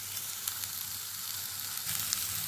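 Mixed vegetables frying in oil in a kadai for a Bengali restaurant-style mixed veg dish, a steady close sizzle with a few light clinks of stirring, no voices.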